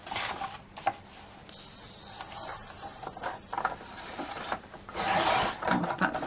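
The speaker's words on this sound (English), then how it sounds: "so I'm trimming this down to an 8-inch card blank." A paper trimmer slicing card stock down to an 8-inch card blank, rasping sliding strokes and hissy rubbing passes, close and moderately loud, no speech.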